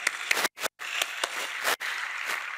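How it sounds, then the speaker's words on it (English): A plenary conference audience applauds the day's moderator: dense clapping close by, broken by a few brief silent gaps, with no voices. "maybe a round of applause for Manny for the great work he's been doing"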